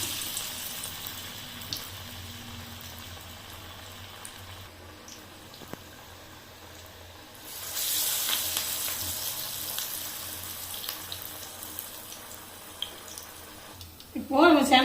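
Small elephant foot yam vadas deep-fry in hot oil with a steady, gentle sizzle that swells louder partway through as more batter goes in, continuing alone without talk to a brief clatter at the end.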